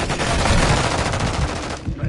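Rapid automatic gunfire in the video game Modern Warfare 2: dense, loud bursts of shots in quick succession, with a short pause near the end before more shots.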